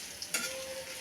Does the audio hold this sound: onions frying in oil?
yes